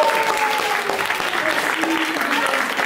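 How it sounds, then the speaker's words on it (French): A live theatre audience claps steadily in warm, continuous applause to welcome a performer onto the stage, dense and close with no breaks. "je vous demande d'accueillir et d'applaudir comme il se doit, Monsieur Joseph Pujol"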